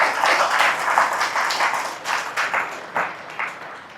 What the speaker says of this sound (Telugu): మీరంతా చప్పట్లు కొట్టి ఆమోదించురుగా